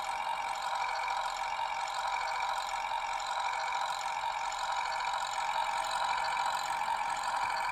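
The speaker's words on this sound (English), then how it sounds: "I'll also back up the locomotive," A Berlyn Galloping Goose model railtruck with Zimo sound backs up, giving a steady, continuous engine drone with no pauses, heard alone at an even level throughout.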